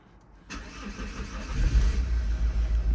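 An Opel Zafira B with a misfiring, stalling engine cranks and starts after a short quiet pause, then settles into a loud, close, rough running rumble with uneven pulses.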